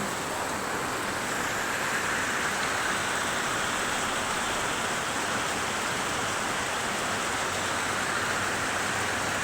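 Steady heavy rain falling during a flood, a continuous dense hiss with no breaks or voices.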